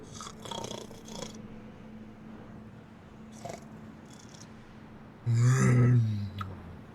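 Soft purring, snore-like breaths rumble in the quiet, ending with a louder, closer growling snore.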